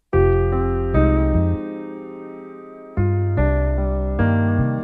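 Piano chords blended with a sustained synth layer, several struck chords with full, ringing tails and a brief quieter gap midway.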